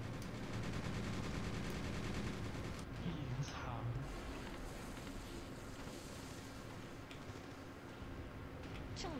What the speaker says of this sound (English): they're giving us pretty heavy tank fire right now